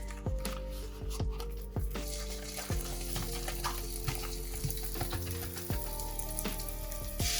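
Sausage sizzles loudly in a pan still hot from frying bacon, a constant crackling hiss broken by repeated clanks and scrapes of stirring.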